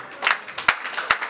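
Hands clap at a live album launch concert in Tripoli, Libya, a few sharp claps over steady crowd noise and music, close and fairly loud.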